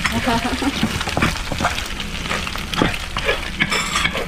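Pad thai rice noodles frying in hot oil in a pan give a loud, busy crackle and sizzle, broken by stirring scrapes and clatter, with a voice faintly present at moments.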